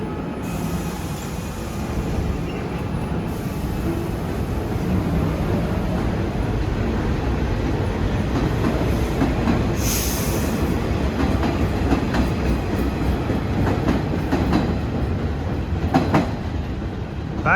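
An R46 subway train on the Far Rockaway line rolls steadily past the station toward Manhattan, a loud continuous rumble with rhythmic wheel clatter and a brief high squeal near the end.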